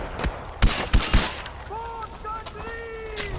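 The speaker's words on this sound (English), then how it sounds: "Who's shooting?" Gunfire in Far Cry 4: a few sharp, loud shots crack out close together early on, followed by whistling, ringing game tones and background ambience.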